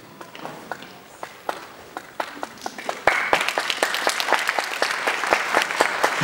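Wedding guests break into applause, starting as scattered claps and swelling into dense, lively clapping from a nearby crowd.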